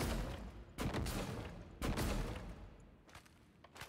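Gunfire in the video game Prey: two heavy, booming bursts about a second apart, then a few lighter, quieter shots trailing off, loud and close with no talking over it.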